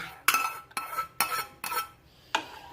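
A spoon knocks and scrapes against a pan five times in an uneven rhythm while milk and semolina are stirred, each stroke a close, bright metallic clink.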